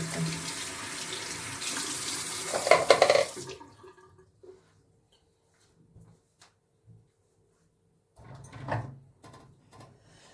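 Water running from a sink tap while a brush is washed, a loud steady gush for about three seconds that cuts off abruptly, followed by faint clicks and a brief later splash.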